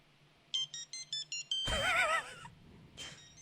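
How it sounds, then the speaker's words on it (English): Tony Soprano's phone ringtone from The Sopranos: five short, evenly spaced electronic beeps, then a louder warbling trill tone that fades, with one more brief chirp after it, clear and close. "Tony Soprano's ringtone's fucking annoying."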